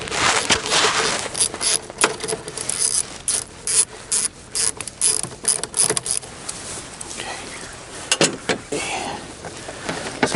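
A 7mm socket ratchet loosens an intake hose collar on a VW Atlas 3.6L VR engine, clicking in rapid, uneven bursts up close.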